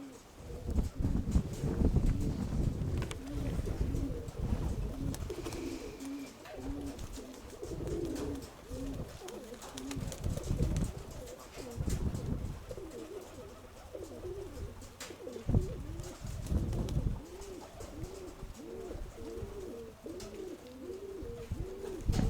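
Pigeons coo repeatedly in overlapping rounded calls, close and steady, with wind rumble and scattered low thumps in the background.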